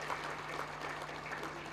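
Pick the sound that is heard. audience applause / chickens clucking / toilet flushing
audience applause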